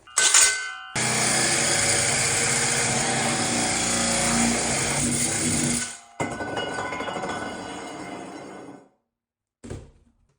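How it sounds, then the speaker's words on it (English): A loud power drill with a wood hole saw whines continuously for several seconds through plywood, drops off, runs again more roughly, then stops; a brief final burst follows. "I'm gonna switch to a wood hole saw to drill through my plywood"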